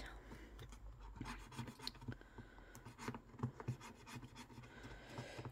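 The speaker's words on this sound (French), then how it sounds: "on va gratter la petite carte" A small scratch card with a lily-of-the-valley design being scratched off, giving soft, steady rasping and rubbing strokes close by at low volume, with no talking.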